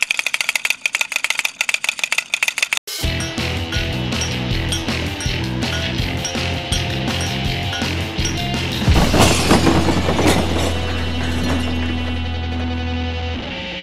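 Hollow plastic Kamen Rider Build Full Bottle toys rattle and clatter continuously, a busy jumble of knocks and clinks close up, with a louder scraping stretch partway through.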